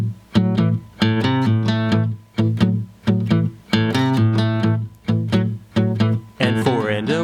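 An electric guitar plays a blues shuffle, with bright, punchy chords in a steady swung rhythm, separated by short choked gaps and ending in a quick sliding lick, loud and close, with no voice.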